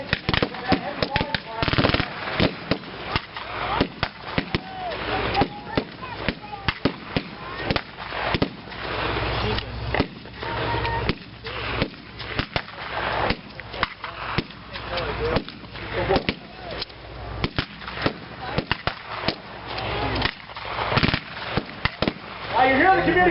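Heavy machine gun fire from a reenactment squad at a wartime museum open house: loud, relentless bursts of rapid gunshots rattling almost without pause for over twenty seconds.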